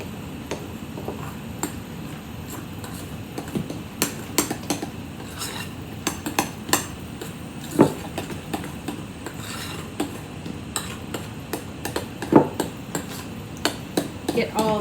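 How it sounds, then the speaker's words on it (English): A spoon stirs pudding mix in a bowl and scrapes the bottom, making steady scraping with frequent sharp clinks and taps against the dish. "I'll make sure I get all of that pudding mix from the bottom of my bowl."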